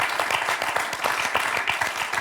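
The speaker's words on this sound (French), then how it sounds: "je crois qu'on peut applaudir cette belle association" A studio audience at a French television quiz show claps steadily for an association, brisk and fairly close with even, rapid rhythm throughout.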